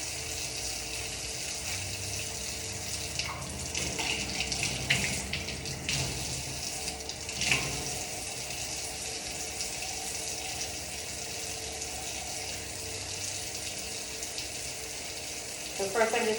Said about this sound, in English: Then I am gonna get the water going and start my scrub.